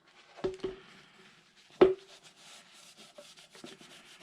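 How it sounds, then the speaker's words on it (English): Surfaces around a car's front turn and parking light are wiped with rubbing alcohol, giving soft, brief rubbing and scuffing strokes close by, with a few sharp taps and quiet gaps between them. "I'm going to take some rubbing alcohol, clean the surfaces where I'm going to"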